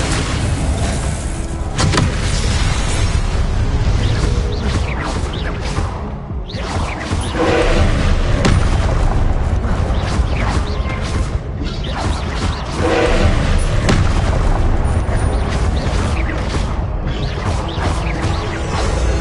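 Expelliarmus disarming spells crack and whoosh in Hogwarts Legacy combat, loud and continuous, with mechanical clanks and crashing hits layered over a dense game soundscape.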